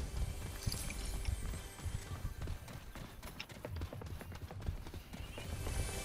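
Footsteps in Fortnite gameplay: a rapid run of thudding steps repeats alongside other game noises, with no talk.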